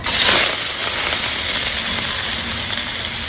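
Spice tempering sizzling in hot oil for a crab curry, a loud continuous steamy hiss that bursts up at the start and then holds steady, close and alone.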